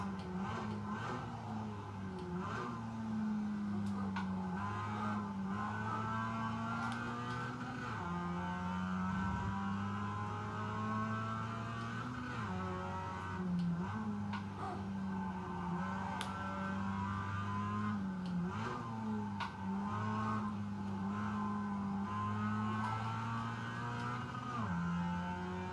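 Simulated race car engine on a hot lap in the iRacing sim, a steady, loud droning whine that climbs through the revs and dips briefly at gear changes and braking, running continuously with no talk.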